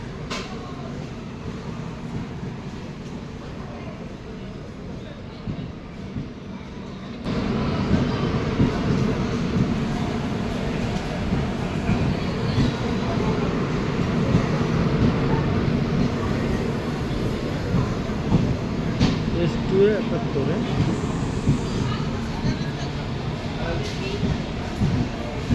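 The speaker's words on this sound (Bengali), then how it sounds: "এতক্ষণ পর আমরা আমাদের ট্রেনের দেখা পেলাম" A train arriving at Kharagpur station at night, a low continuous rumble that swells louder partway through and carries on with rolling rail noise, under faint background chatter.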